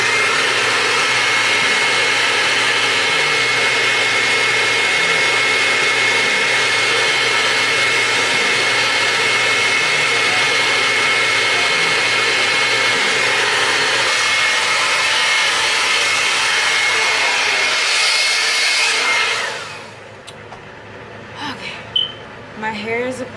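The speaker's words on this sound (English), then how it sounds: "So I'm just gonna take my blow dryer, attach my diffuser." A blow dryer fitted with a diffuser runs on hot, high setting, a loud steady whooshing roar that holds for about nineteen seconds before cutting off, leaving quiet handling noises.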